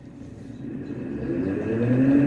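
A 750-watt brushless DC motor spinning up in reverse, anti-clockwise, a steady whirring hum that rises in pitch and grows louder over a couple of seconds.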